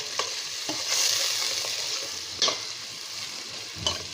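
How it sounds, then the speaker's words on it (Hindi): A steady sizzle of onions frying in oil, with a few scraping stirs of a utensil at intervals; no voices. "ये ऑयल में मैंने प्याज डाल दी है। अभी हम थोड़ा ब्राउन करेंगे इसको।"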